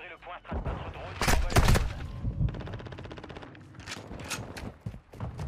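Bursts of gunfire in the shooter Modern Warfare II, sharp cracks and a short rattling automatic volley of moderate loudness, mixed with other game noise.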